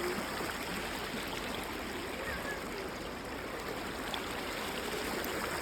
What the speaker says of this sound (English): Welcome to Dubare Elephant Camp and coorg, and this is Kareli River.